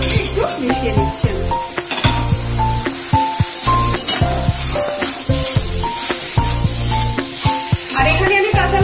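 Fried chickpeas and grated coconut being stirred in a hot pan for a vegetarian Bengali curry, with sizzling oil under repeated scraping and clinking of a spoon against the metal, loud and close.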